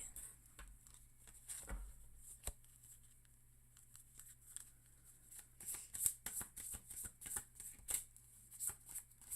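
A deck of tarot cards is shuffled up close, soft riffling and papery slides building into quick, crisp bursts of flicking near the end, with no talking.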